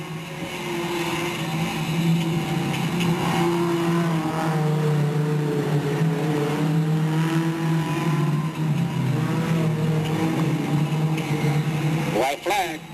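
Race cars at Delta Speedway power back up to speed on the restart, a loud, continuous engine drone with rising and shifting pitch that fills the scene, with a commentator talking over it throughout.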